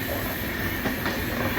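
A train runs on rails near Kannur, Kerala, heard as a brief, steady rushing rumble with faint clicking, fairly quiet and with no talk.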